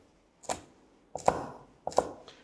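A knife chops ingredients for mapo tofu on a cutting board, three crisp strikes, the last two in quick pairs, close and fairly quiet with silence between.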